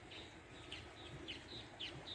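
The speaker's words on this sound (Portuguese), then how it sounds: "olha os passarinhos cantando." Small birds chirp in short repeated high phrases around a rural countryside spot near a stone river and wooden water wheel, faint against a steady low outdoor rumble.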